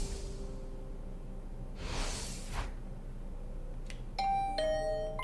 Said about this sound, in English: Is that my doorbell?